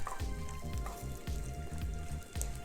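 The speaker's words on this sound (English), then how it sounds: "Get this egg fried up and good to go." Eggs frying in a hot pan for seafood fried rice, with a continuous crackling sizzle and rhythmic scraping bursts as they are stirred, fairly close and with no talk.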